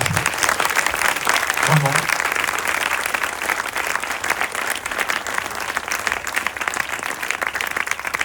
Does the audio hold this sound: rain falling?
no